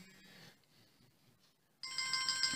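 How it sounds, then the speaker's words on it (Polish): A telephone rings during a quiet spoken maths lesson, a bright electronic ringtone that bursts in loudly near the end and repeats in steady pulses, with faint room noise before it. "Ktoś mi tu dzwoni, więc muszę przerwać."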